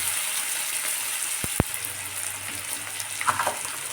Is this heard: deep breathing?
no